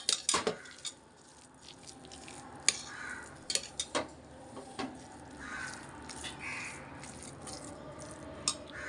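A spoon stirring and scraping sama rice pongal in a metal pot, with sharp clinks and knocks at irregular intervals over a quiet background.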